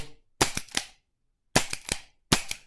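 A new, unfired Ruger GP100 revolver with a 4-inch barrel is dry-fired three times, each trigger pull giving a sharp metallic click followed by quick mechanical snaps, close up and separated by silence.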